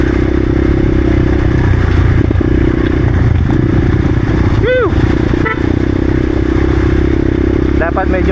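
A motorcycle engine runs loud and steady throughout, close and droning, with clattering and scraping from riding over rocky ground at an abandoned mine site; people talk briefly over it.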